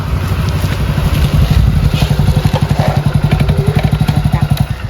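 A motorcycle engine close by, rumbling and revving, its rapid rhythmic thumping becoming more pronounced as it rides.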